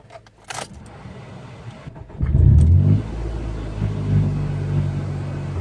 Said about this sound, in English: the car is extremely loud without those rear seats in